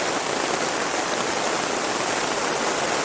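Heavy rain in a storm drums steadily on the rainfly of a cabin tent, a dense, unbroken hiss of drops heard from inside, loud and even throughout with no voices.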